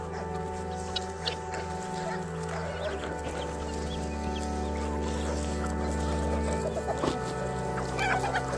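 Chickens cluck in a farmyard, several birds calling in short, scattered bursts over a steady low hum, fairly close and without talk.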